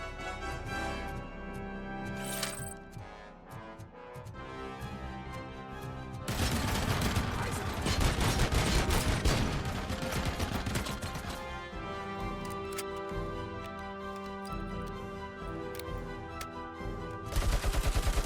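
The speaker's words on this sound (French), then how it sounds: "Vous savez que là je tiens même pas la gâchette pour tirer." Automatic gunfire from the RoboCop Rogue City video game, a loud sustained burst of rapid shots running through most of the stretch over a dense game soundtrack, with heavier firing in the middle and a fresh burst at the end.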